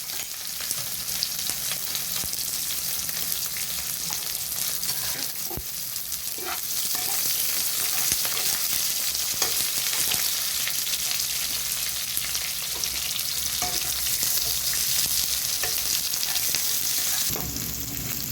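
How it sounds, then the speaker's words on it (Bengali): Onions frying with whole garam masala in a pan for chicken biryani, a continuous loud sizzle with occasional stirring clinks and scrapes, steady throughout and alone. "পেঁয়াজটা ভাজা হয়ে গেছে"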